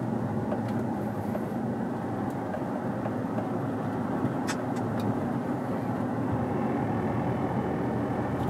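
Chevy Tahoe engine running at a steady idle-like drone during a misfire check, with a continuous low rumble and a few faint ticks.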